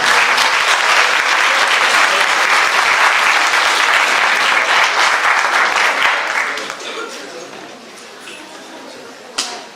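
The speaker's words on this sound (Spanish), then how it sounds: "Demos un fuerte aplauso, por favor." A large audience at a presentation on financial auditing claps loudly and continuously, then the applause thins and fades out, ending with a single sharp tap.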